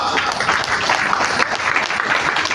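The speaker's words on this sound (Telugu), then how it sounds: "బద్రీ నారాయణకు మీ చప్పట్లు వినబడాలా?" An audience claps for Badri Narayana at a Nivesh Plus insurance policy event, a dense burst of steady applause from a crowd, loud and close, filling the whole moment with no break.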